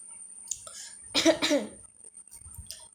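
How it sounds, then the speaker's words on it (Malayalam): A single close, throaty cough bursts out in the middle of a Free Fire gaming session, with quieter breaths and faint noises before and after. "ചുമ."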